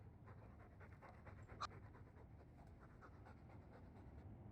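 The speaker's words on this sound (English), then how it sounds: "All that noisy dog breath" Quiet, rhythmic panting from a nearby dog continues evenly over a low background hum, broken once by a brief faint squeak or click.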